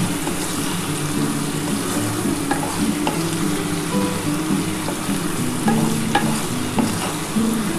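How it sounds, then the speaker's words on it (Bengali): Potatoes frying with onion, ginger, garlic, tomato paste, chilli powder and turmeric in a pan, sizzling loudly and steadily while a spatula stirs and scrapes now and then, with no voices. "পেঁয়াজটার সাথে আলুটাকে খুব ভালো করে ভেজে নিতে হবে।"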